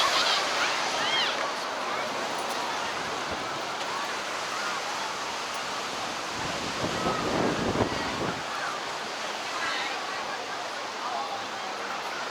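Ocean waves wash in steadily at Coogee Beach in Sydney, a continuous broad surf roar mixed with wind buffeting the microphone, with one surge swelling louder midway.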